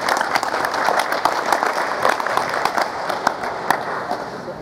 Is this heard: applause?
yes